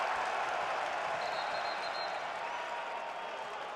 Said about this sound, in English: Hunter Dickinson urging this Michigan crowd to get on their feet